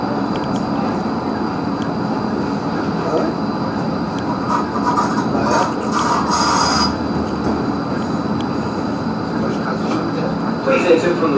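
A Gold Coast G:link light rail tram rolls along with a steady rumbling roar and intermittent high wheel squeals, loud and close throughout.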